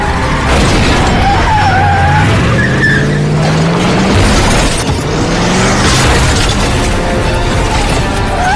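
Pickup truck in an action attack scene, a loud dense roar of engine and tire skid mixed with crashing, impact-like bursts and scattered effects, continuous and intense throughout.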